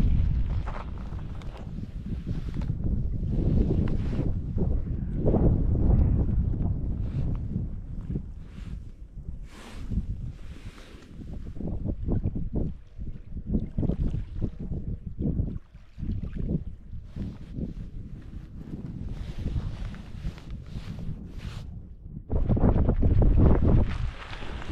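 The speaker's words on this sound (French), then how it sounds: "là il y a des bonnes petites rafales à 25-30 km/h" Gusty wind on a desert island roars across the microphone in uneven surges, rising and falling in loud buffeting blasts with brief lulls between gusts.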